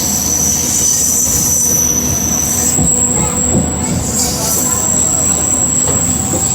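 A MEMU train rounds a curve on the Vijayawada–Guntur line, its wheels letting out sustained high-pitched squeals over a loud, steady rumble of rolling stock, close and continuous throughout.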